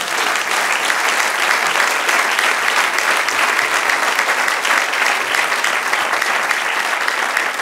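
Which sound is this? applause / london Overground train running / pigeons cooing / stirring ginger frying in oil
applause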